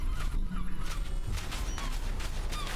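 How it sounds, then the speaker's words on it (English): Seagulls call in the video game Beautiful Desolation, a few short squawks scattered over a loud, steady wash of surf or wind, with no talking. "There's seagulls here."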